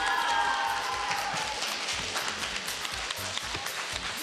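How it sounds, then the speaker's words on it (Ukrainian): Studio audience at a Ukrainian school quiz show applauds a winning team, starting with loud dense clapping over a fading musical sting, then settling into steady rhythmic applause that continues to the end. "Поаплодуйте, будь ласка, команді «Компас» під бурхливі овації"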